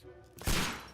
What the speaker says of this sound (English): Blind shooting.